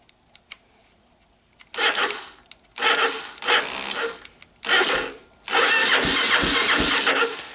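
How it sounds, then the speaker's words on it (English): A Honda TRX250 ATV cranks on its electric starter in four separate bursts, each a loud whirring churn, the last one catching and running rough for a couple of seconds at close range. "The only thing left to check is the starter, and let's see what it does."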